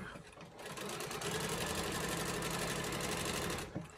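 Sewing machine running steadily for a few seconds as it double-stitches a cathedral window quilt, a fast, even mechanical whir that starts and stops cleanly, no talk.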